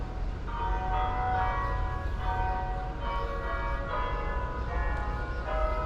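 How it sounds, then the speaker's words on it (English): Church bells ring steadily on 13th Avenue in Brooklyn, New York, with sustained, overlapping tones over a constant low rumble of traffic or background noise. "Got some church bells."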